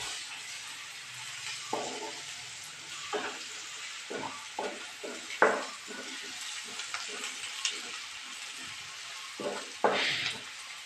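Egg roast masala is stirred in a pan over a faint continuous sizzle, with a series of irregular scraping and clinking spoon strokes, close and fairly quiet, without speech.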